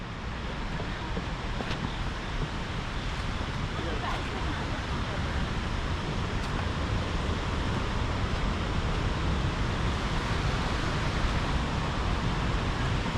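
Loud, steady roar of a rushing waterfall fills the whole clip, a dense broadband wash with no breaks, close and powerful.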